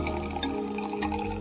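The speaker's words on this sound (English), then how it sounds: "The sample is poured into a syringe barrel attached to the top of the column." Diluted sample extract pours into a syringe barrel mounted on top of an immunoaffinity column in an aflatoxin lab test, a steady close liquid trickle and splash with no talk.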